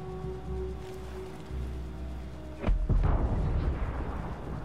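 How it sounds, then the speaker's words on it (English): Explosion in the tactical shooter game Ghost Recon Breakpoint, a sudden loud blast with a rumbling tail that breaks through steady background game ambience partway in. "That must have been a second explosion."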